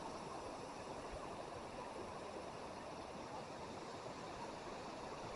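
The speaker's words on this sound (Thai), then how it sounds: "น้ำไหลน้ำไหล" Steady rushing water of a waterfall stream at Tad Chang and Tad Sao Wa falls, like water pouring over rocks, a constant broadband hiss filling the whole stretch without pauses.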